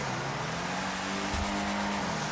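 A car slides sideways in a drift in GTA V, its steady engine drone holding under a faint tire hiss for a couple of seconds, close and continuous.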